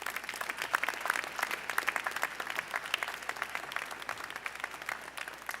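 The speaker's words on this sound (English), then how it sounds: "Please join me in giving your families a round of applause" Families at a New York City police academy graduation ceremony for more than 580 new officers get a sustained round of applause from a large audience, steady dense clapping filling the hall throughout.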